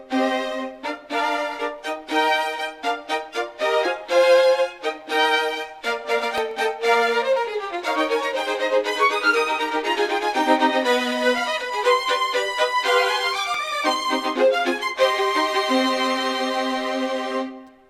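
A full orchestral passage rendered from a sample library and meant to sound like sixty players plays alone, with staccato chords giving way to sustained, swelling lines before it fades out at the end.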